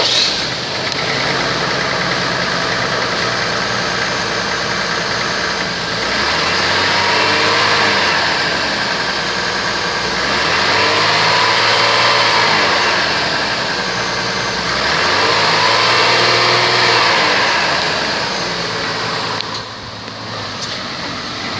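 A 2003 Chevrolet Trailblazer engine runs steadily at idle, then revs up three times in smooth rising-and-falling swells before settling, heard close and alone throughout.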